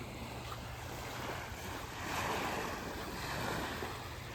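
Gentle waves washing onto a small campground beach, a soft steady surf rush with light wind, fairly faint and without voices.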